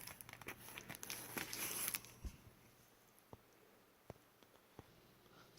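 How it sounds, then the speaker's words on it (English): Processor packaging torn open by hand, a close burst of crinkling plastic and ripping in the first two seconds, followed by a few scattered faint clicks and taps. "Here, I could just probably rip this open right here."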